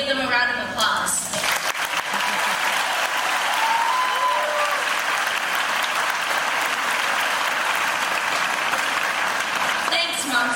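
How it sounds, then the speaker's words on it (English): At a fifth-grade graduation ceremony, an audience breaks into loud, sustained clapping for the families that lasts nearly the full stretch, with voices briefly audible at the start and end. "Let's take a moment to give them a round of applause."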